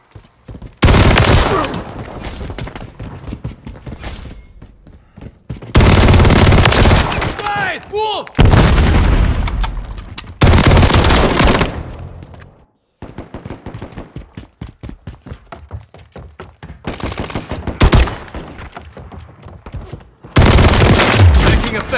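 Call of Duty MW3 Team Deathmatch on the Breenbergh Hotel map with a WSP Swarm submachine gun: repeated loud bursts of rapid automatic fire and explosions alternate with quieter gaps of movement and distant shots.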